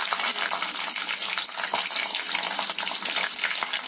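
Chana dal frying in hot oil with mustard seeds and peanuts for tamarind rice, giving a steady dense sizzle and crackle that runs unbroken throughout, close and fairly loud, with no voices.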